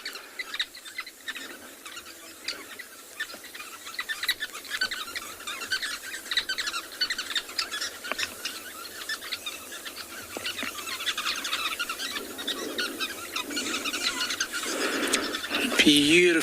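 Sociable weaver birds call at their large communal grass nests at sunset on a safari reserve, a steady dense chorus of high twittering chirps heard from a moderate distance, continuing throughout with a voice briefly at the end.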